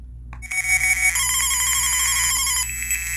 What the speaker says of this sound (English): You should be able to really hear the pitch sound of the PAL ROM here